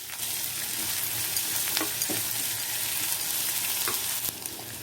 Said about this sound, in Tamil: பொடியாக நறுக்கினா பெரிய வெங்காயம் 2 நறுக்கியிருக்கேன். அதை இதோட சேர்த்து வதக்கிட்டு நம்ம சாம்பாரில் போட்டுக்கலாம்.